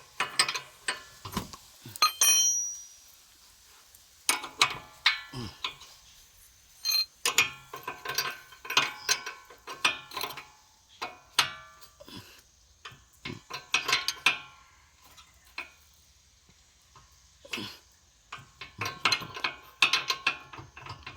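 A ratchet wrench tightens a nut while a car's steering and wheel alignment is adjusted, giving close, repeated bursts of quick metallic clicking separated by short pauses, with no talking.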